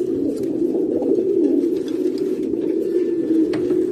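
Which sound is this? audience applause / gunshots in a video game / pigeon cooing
pigeon cooing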